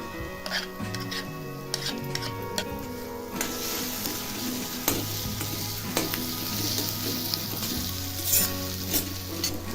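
Eggplant sautéing for Maharashtrian vangyache bharit, a steady sizzle with repeated spatula stirs and scrapes against the pan, loud and close, with tonal background music running underneath.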